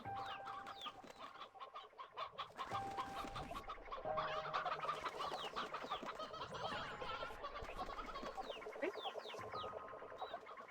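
Briar chickens in the video game Slime Rancher 2 cluck and squawk in a busy, overlapping flock, close and steady throughout with no talking.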